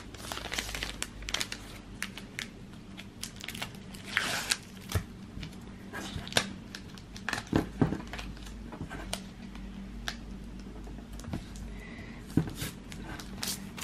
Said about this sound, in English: So I'm just putting the stickers in a little cello bag to protect them